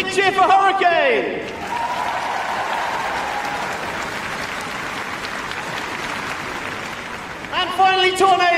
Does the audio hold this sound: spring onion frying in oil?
no